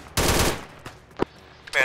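Gunfire in the video game Arma 3, a sharp burst of rapid automatic fire followed by a couple of single distant shots, fairly faint and brief, with no talk.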